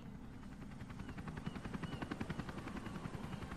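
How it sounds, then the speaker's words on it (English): In the video game Resident Evil Revelations, a helicopter's rotor beats a fast, steady thump that grows louder and more pronounced over a few seconds, with no voices over it. "Yes, because we got a helicopter shot."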